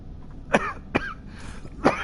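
Three sharp coughs from one person, close and fairly loud, spaced irregularly across a couple of seconds with no talking in between.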